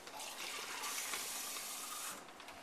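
Water poured into a pot of Congolese Moambe stew as it cooks, a steady splashing rush close by that lasts about two seconds and then tapers off, with no voices.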